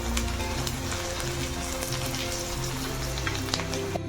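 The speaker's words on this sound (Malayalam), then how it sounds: "കുറച്ച് കരിവേപ്പിൻ്റെ ഇല ഇട്ട് കൊടുക്കാം. നന്നായി ഒന്ന് ഇളക്കി കൊടുക്കാം." Curry leaves and onion fry in hot oil for samosa filling, giving a constant crackling sizzle that sounds close and moderately quiet, with faint stirring taps and no talk.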